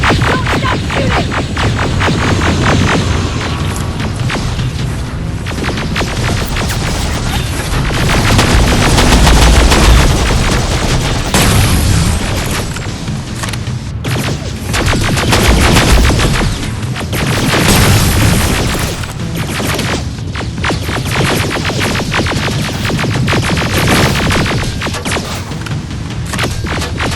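Dense, continuous gunfire from Terminator: Resistance, with rapid automatic bursts and heavy booms layered into a loud, unbroken battle din across the whole stretch, no talk.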